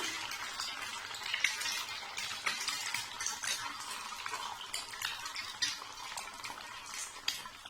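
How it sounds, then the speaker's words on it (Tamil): Beaten egg fries in hot oil in a pan for a spiced masala omelette, giving a continuous soft sizzling hiss with faint scraping, quiet and steady with no talk. "ஆயில் ஹீட்டானதும் ஒரு டம்ளரில் உள்ள இந்த ஒரு முட்டையவும் அதே அதில் ஊற்றிடலாம்"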